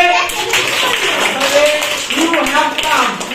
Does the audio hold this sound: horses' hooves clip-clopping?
no